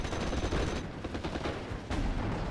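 Rifle fire in the World War II strategy game Steel Division: Normandy 44, a crackling stream of distant overlapping shots and bursts with a sharper volley near the end, no voices.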